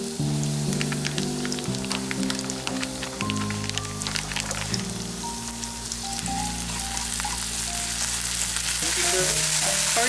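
Yellow onion and ginger frying in a pan, a dense continuous crackling sizzle like rain, close and steady throughout with light stirring, and music playing underneath.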